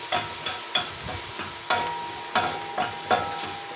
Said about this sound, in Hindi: प्याज को भी बस हम हल्का सा सौटे करेंगे।